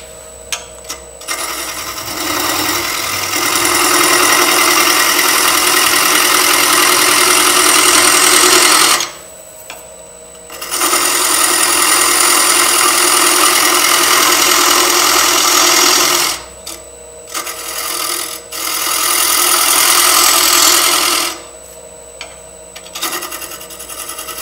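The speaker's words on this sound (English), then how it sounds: "I'm going to take just a simple square end scraper and work on that recess" A square end scraper cuts a recess in a turned wood salt and pepper cellar on a lathe, a loud continuous buzzing chatter in long stretches broken by short pauses.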